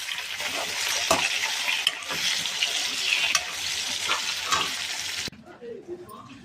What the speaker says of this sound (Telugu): కొంచెం నువ్వులు వేసుకున్నాను, 1 స్పూన్. వెల్లుల్లి ఒక 4-5 రెబ్బలు, చిన్న నిమ్మకాయ సైజ్ అంతా చింతపండు, కరివేపాకు మంచిగా వేపుకున్నాను.